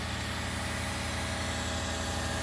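A homemade V-belt drive turns the spindle of a G0704 CNC mill, powered by a 1500 W brushless DC motor, producing a steady, even hum with a fast rhythmic pulse and no speech.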